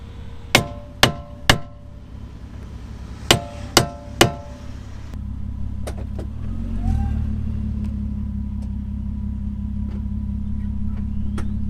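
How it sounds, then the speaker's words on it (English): Two bursts of three sharp metallic hammer blows on a stuck brake caliper of a Nissan R32, close and loud, followed by an engine starting and idling with a low rumble. "Now according to Tom, smacking this hard enough should release it."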